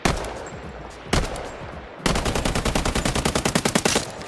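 An AK rifle in a video game fires two sharp single shots, then a rapid, evenly spaced automatic burst of about a dozen loud, punchy rounds, close and dominant with no voices.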